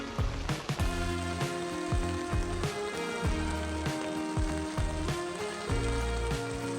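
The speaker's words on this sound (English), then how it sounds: "It went from a light drizzle to thunder and a torrential downpour." Heavy torrential rain drumming steadily on a tent during a backcountry canoe trip, a dense continuous patter with irregular drops striking close by; no thunder stands out.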